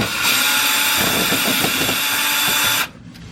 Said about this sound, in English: loosen up this inner fender cover. Just three Phillips head screws